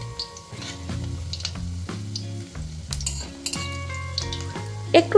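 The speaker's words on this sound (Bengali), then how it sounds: "গ্যাসের ফ্লেমটা মিডিয়ামে রেখে বড়াগুলো উল্টে পাল্টে ভেজে নিতে হবে" Drumstick flower fritters fry in hot oil over a medium gas flame, a continuous sizzle and crackle broken by clinks and scrapes of a spatula turning them in the pan.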